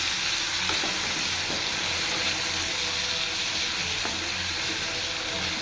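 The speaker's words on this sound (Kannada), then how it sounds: "ಟೊಮೊಟೊ ಸೇರಿಸಿದಾಗ ಅಷ್ಟೇ ಹಿಂಗೆ ಚೆನ್ನಾಗಿ ಮಿಕ್ಸ್ ಮಾಡ್ಕೋಬೇಕು" Onions and tomatoes sizzle in a pan for egg gravy, a continuous moderate frying hiss broken by a few soft scraping stirs, close but not loud.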